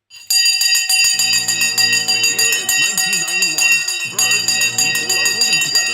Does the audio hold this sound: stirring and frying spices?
no